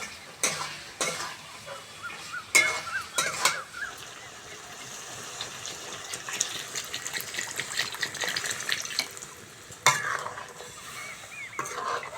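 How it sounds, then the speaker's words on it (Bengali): Water poured into a pan of sizzling egg curry masala, a rushing gush over frying hiss, framed by several sharp clanks of a utensil on the pan before and after, no voices. "এইবার আমি জল দিয়ে দেবো"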